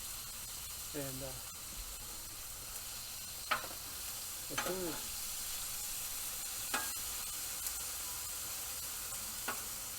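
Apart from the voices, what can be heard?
broccoli steaming under a lid on a Blackstone griddle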